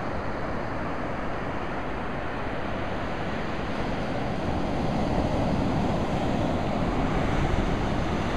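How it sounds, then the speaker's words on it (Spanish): Rough sea waves breaking on the beach at Villa Gesell, a dense continuous roar of surf mixed with wind buffeting the microphone, loud and steady throughout. "Igual sigo sin creer que esté tan picado el mar"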